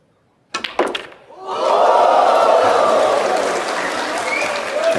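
A snooker crowd at a 2024 Grand Prix-level professional match bursts into loud, sustained applause and cheering after a few sharp opening claps, the roar holding steady and filling the hall.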